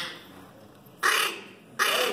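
Two short, raspy nasal calls from a duck call imitating the cat-like meow of diving ducks, spaced apart against quiet background, sounding close and fairly loud.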